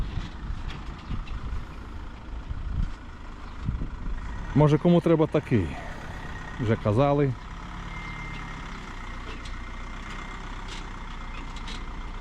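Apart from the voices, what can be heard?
tractor arriving and maneuvering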